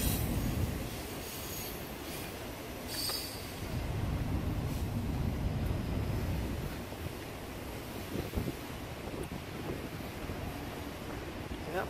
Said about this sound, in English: if you gotta excuse the train noise